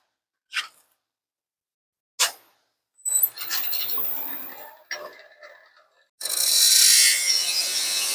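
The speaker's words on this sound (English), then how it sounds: "I think we will accomplish that with the parting tool." A parting tool cuts into a wood workpiece spinning on a lathe: two sharp clicks first, then two sustained, close, rasping cutting bursts with a brief pause between.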